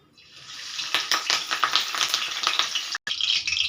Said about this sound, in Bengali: এবারে ভাজবো কারি পাতা।